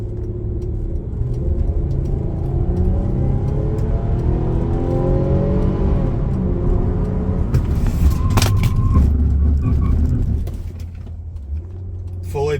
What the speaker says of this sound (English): I'm going to do that 0 to 40 to 0 to show you the ABS and how just straight and true this thing tracks.